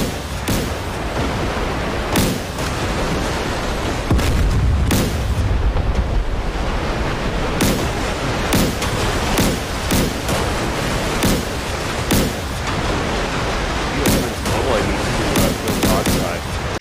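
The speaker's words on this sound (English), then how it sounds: "She's firing at these guys who are chasing the carriers down." A warship in a naval battle game fires its guns again and again as sharp, loud blasts at irregular intervals over a constant roar of sea and wind.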